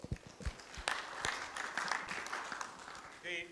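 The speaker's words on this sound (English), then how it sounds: "Another round of applause." Conference audience applauding after a presentation at an international population and conservation genetics meeting; short, uneven bursts of clapping over about three seconds, moderately loud and somewhat sparse.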